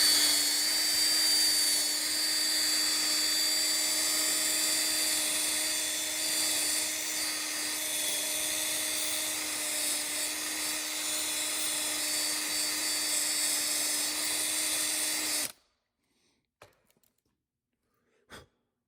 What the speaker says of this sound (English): I just scraped it out with a screwdriver and then cleaned up the rest with that wire brush